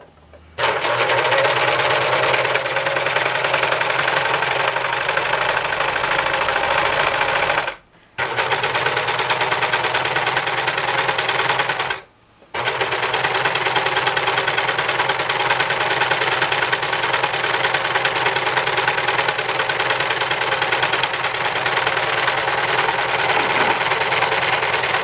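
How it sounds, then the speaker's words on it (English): A serger sewing machine stitches along the edge of a towel in a steady, loud mechanical whir that runs continuously, broken by two brief pauses before resuming. "The nice thing about the serger, it leaves a really clean edge."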